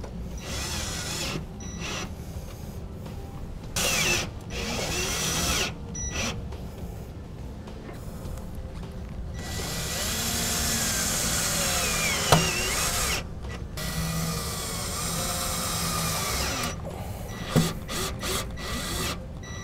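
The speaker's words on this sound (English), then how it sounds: "We'll be using a couple self-tapping screws on each to attach it to the inner fender well here." A power drill drives self-tapping screws into the inner fender well of a 2007 Chevrolet truck, close whirring bursts of motor and ratcheting grind separated by brief pauses, with a couple of sharp metallic ticks; no one speaks.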